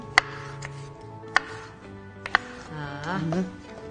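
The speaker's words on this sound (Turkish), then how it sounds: "Küp küp mü doğrayayım nasıl istiyorsun?" A few sharp knife chops land on a board at irregular intervals as food is cut into cubes for menemen, with a person talking faintly in the background.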